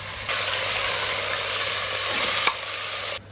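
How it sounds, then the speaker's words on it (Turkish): Meat sautéing in heated oil for a traditional Kilis recipe gives a loud, steady sizzle that fills the clip, with one brief clink partway through, then cuts off abruptly near the end. "Şimdi ısınan yağımın içerisine etlerimi ilave ettim. Bunları şimdi bir soteleyeceğim."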